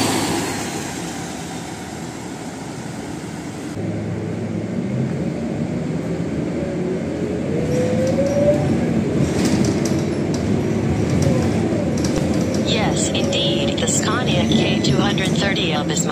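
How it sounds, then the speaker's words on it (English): Scania K230UB city bus in Singapore with a ZF Ecomat 6HP 502/504C automatic transmission: a steady engine drone with a rising gear whine as it pulls away, heard continuously over background road noise. "I love the sound of the Scania K230 UB's transmission model, ZF Ecomat 6HP 502 and 504C."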